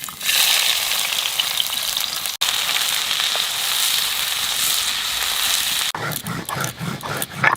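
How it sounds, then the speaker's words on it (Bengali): Onions frying in a little oil in a wok give a steady, loud, broadband sizzle that runs almost unbroken, briefly cutting out once, then turns patchier and more crackly near the end, with no talking. "তো আমি অল্প অল্প করে ভাজছি, যেহেতু অল্প তেল আছে।"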